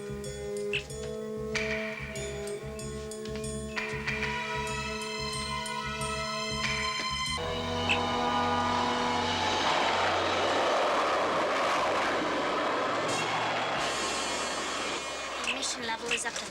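Spacecraft liftoff in a science-fiction TV series, with a rhythmic pulsing mechanical hum that gives way to a loud roaring engine rush building and holding to the end, voices speaking over parts of it.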